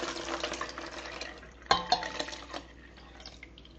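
Milk and heavy cream poured into a bowl of eight mixed eggs for custard, a soft liquid pour with light splashing and a couple of clinks against the bowl, fairly quiet and close.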